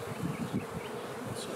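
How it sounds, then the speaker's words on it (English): Honey bees buzz at a club apiary colony during spring splits, a dense continuous close-up hum with no talk. "I'm seeing lots of bees."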